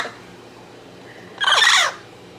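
A pet parrot at a Colchester pet store gives one loud, harsh screech lasting about half a second after near silence.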